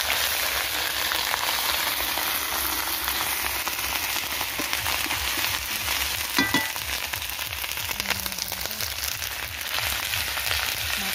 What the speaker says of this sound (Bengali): আদা বাটা দিয়ে দিচ্ছি।